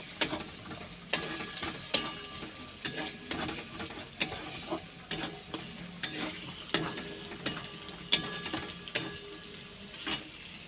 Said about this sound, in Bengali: এইবার ঝুরু ঝুরু করে ডিমটা ভেজে নেব